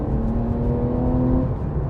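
A Porsche 911 Carrera S (991.1) engine hums steadily at close range with a sustained tonal whine, the drone of the car cruising along a road in the rain.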